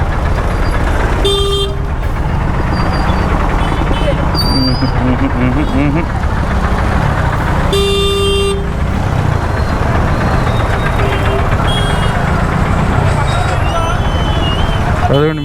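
Vehicles stuck in a traffic jam, loud close horns honking repeatedly in separate blasts over a constant rumble of engines and street noise, with people talking throughout.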